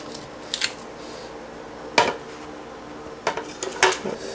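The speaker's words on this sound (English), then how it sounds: "take everything that you roasted up and add it into the blender" Roasted vegetables dropped into a Ninja blender, a few separate clunks and clattering thuds against the jar spaced over a few seconds, close and moderately loud over quiet background.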